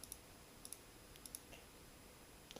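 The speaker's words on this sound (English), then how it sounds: "Currently, I am clicking on the turret and no turret is being placed there." Computer mouse clicks land in a tower defense game while trying to place a turret, small crisp clicks in paired bursts spaced about every half second, faint and close over a quiet room hiss.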